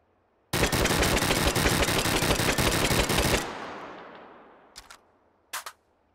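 Rapid automatic gunfire roars nonstop for about three seconds in Hot Dogs, Horseshoes & Hand Grenades, a VR game on HTC Vive, then rings out into a fading tail, followed by two short clattering knocks.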